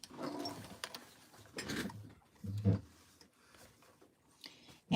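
A sewing machine stitches a 1/4 inch seam straight across fabric with right sides together, running in several short mechanical bursts separated by pauses, close and moderately loud.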